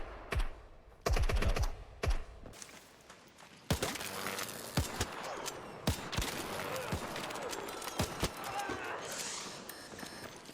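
Gunfire in the shooter Gray Zone Warfare: sharp shots in short bursts, first a few loud isolated cracks, then a steadier run of firing mixed with rustling movement and background game noise.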